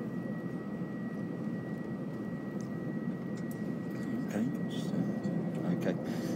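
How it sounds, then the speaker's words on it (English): A Virgin Airbus A350 is moved around the Toulouse airfield, a steady low jet engine rumble and whine heard from a distance, with people talking over it. "the Virgin 350 has already flown, so she's being moved around the airfield"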